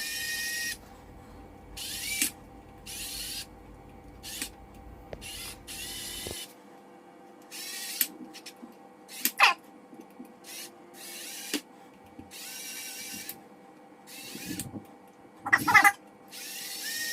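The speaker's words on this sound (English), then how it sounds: "I'm just screwing in the screws the rest of the way through the bobbin and through the base plate" Short bursts of a small powered screwdriver drive screws through guitar pickup bobbins into a base plate. The whirring runs come in irregular spurts separated by quiet gaps, with a few sharp clicks of parts being handled and no talking.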